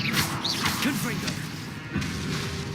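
A Confringo fire-blast spell explodes in Hogwarts Legacy combat, giving swishing magic whooshes and a smashing burst amid loud game effects, with a voice calling out over them.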